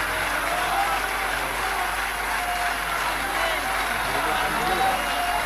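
A mushaira audience keeps up steady applause for the Urdu poet Munawwar Rana, dense even clapping filling the whole stretch at moderate level, with faint speech underneath.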